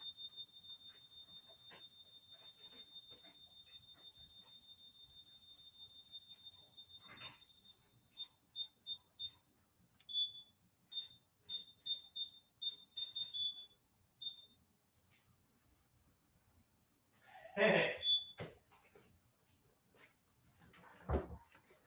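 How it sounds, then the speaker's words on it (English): A home burglar alarm goes off indoors, a thin high electronic tone holding steady, then breaking into rapid repeated beeps before stopping, with a few faint knocks and brief low voices afterward. "My alarm is going off."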